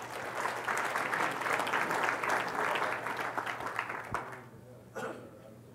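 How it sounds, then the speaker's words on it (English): Applause from a conference audience after a technical talk, fairly faint and steady, fading out near the end with a few scattered claps and a little talk. "Round of applause."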